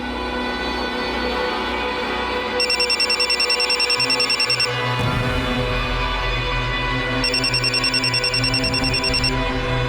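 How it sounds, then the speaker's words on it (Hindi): A phone rings in two bursts of rapid electronic trilling, loud and close, over a steady low background hum. "भाभी जी का फोन बज रहा है"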